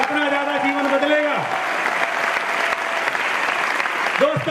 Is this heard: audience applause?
yes